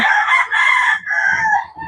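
A nearby chicken, apparently a rooster, lets out a loud crow in several drawn-out segments, with faint background noise beneath.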